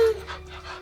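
A dog pants in quick, soft breaths at close range over a short moment, with a brief voice-like tone at the start.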